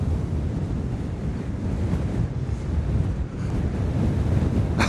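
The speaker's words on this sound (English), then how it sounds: "it's so windy it knocked my camera over" Strong wind buffets the microphone at a hilltop golf course in a constant low roar, with surf and water noise underneath and no voices.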